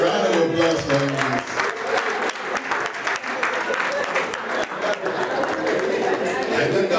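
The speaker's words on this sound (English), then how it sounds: "round of applause for you" Guests at a 40th birthday party applauding, steady crowd clapping mixed with chatter and cheering voices throughout, loud and close.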